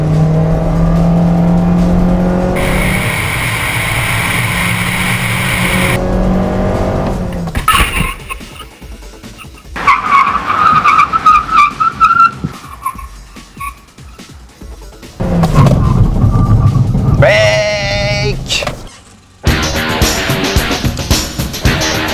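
A Honda Civic 1.8S brakes hard with ABS from 100 km/h, loud engine and road roar giving way to chattering tire squeal, the sound shifting abruptly between separate segments.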